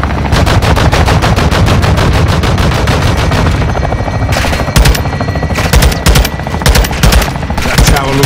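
Machine guns fire in Call of Duty: Modern Warfare II (2022) at Las Almas, Mexico: loud, close, rapid sustained bursts, then broken into short volleys with brief gaps.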